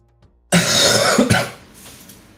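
A single loud, harsh cough bursts out after a moment of near silence, followed by a rough, fading exhale.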